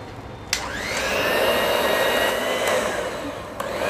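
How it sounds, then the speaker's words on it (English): Electric blender whirring through cookie dough for double chocolate chip cookies, a loud steady motor whine that spins up after a click and holds, with brief knocks near the start and end. "now we're just gonna blend it until it's nice and creamy"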